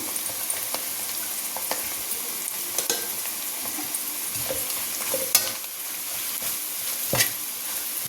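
Bitter gourd pieces with masala sizzle and fry in a pan while a spoon stirs and scrapes through them, steady crackling with occasional sharp clicks, close and alone without talk.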